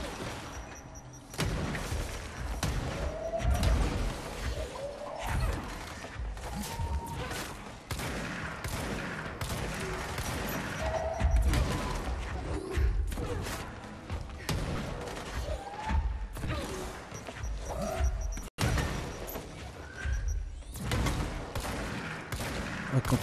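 Dense, continuous video game gunfire and thumping grenade explosions from a battle in Control, with rapid shots and booms layered throughout at steady loudness.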